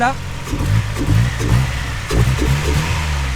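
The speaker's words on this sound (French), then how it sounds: "Mais en tout cas, le bruit de l'admission," Intake noise from a Mazda MX-5 NA Miata engine, a low throaty rumble rising and falling in pulses as the throttle is blipped, close by, with someone speaking French briefly over it.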